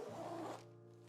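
A zipper on a Mystery Ranch backpack is pulled in one smooth, quick run lasting about half a second, close and quiet, then stops.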